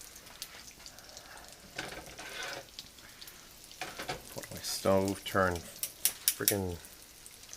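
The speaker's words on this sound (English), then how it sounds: "We're just trying to get these breadcrumbs to crisp up." Breaded pork chops crisping in hot Crisco in a pan on the stove, a close, steady crackling sizzle with occasional stirring clinks, while a voice talks intermittently over the frying.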